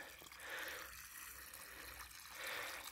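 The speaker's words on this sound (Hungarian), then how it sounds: "most a nagy sárságra való tekintettel minden barázda felületét alaposan belocsolom." Well water poured from a hose onto freshly dug potato furrows in a muddy garden, making a steady close rush and hiss that swells at the start and again near the end, with no talking.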